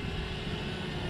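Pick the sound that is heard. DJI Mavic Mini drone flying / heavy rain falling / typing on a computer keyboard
DJI Mavic Mini drone flying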